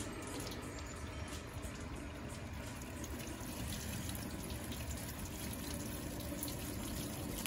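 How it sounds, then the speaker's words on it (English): A garden hose runs water through a car radiator for a reverse flush, producing a steady, faint, even gushing hiss that continues without a break. "you put your hose into the bottom hose of the radiator and let the water run straight through,"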